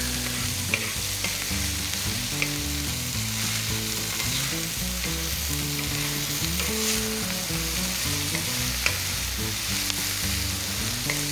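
Ingredients sizzle and fry steadily in a pan while being stirred, a continuous crackling hiss with occasional scraping, under background music.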